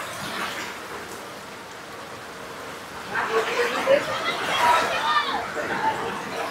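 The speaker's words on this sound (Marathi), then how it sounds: "पाऊस तर खुला झालाय आता" Heavy rain pouring down in Haridwar, a steady broadband hiss that swells louder in the second half, with voices chattering faintly beneath the downpour.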